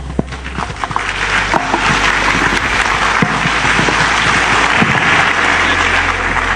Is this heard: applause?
yes